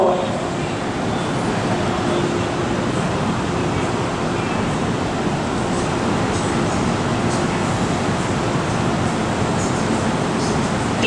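An out-of-service MTR Kwun Tong line M-Train runs through Yau Tong station with a loud, steady rushing roar of wheels and motors that fills the platform throughout without fading.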